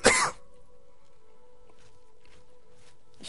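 A man gives a single sharp, close cough at the start during a gaming session, followed by quiet with a faint steady hum and a few soft rustles.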